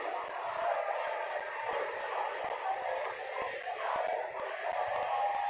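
Large crowd at a cricket match in The Hundred, a steady, dense murmur of many voices filling the whole stretch with faint scattered shouts and whoops, distant and continuous.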